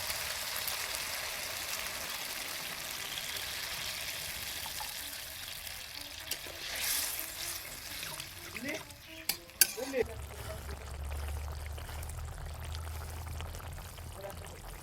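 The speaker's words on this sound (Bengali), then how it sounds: "এখন আমার কষানো হয়ে গেছে, এখন আমি জল দিয়ে দেবো।" Water poured into a pan of bata fish curry frying with cauliflower and potato, the sizzling giving way to a splash and a low, steady pour.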